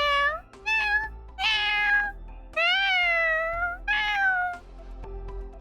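A person imitates a cat meowing, giving several drawn-out, wavering meows in a row, close and clear with short gaps between them.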